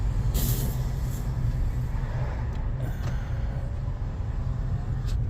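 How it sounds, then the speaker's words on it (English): Trucks pass along an industrial road lined with panel beaters and tyre shops, a constant heavy traffic rumble with a few sharp hissing bursts like air brakes near the start and end. "You just need to look at the trucks that are driving along"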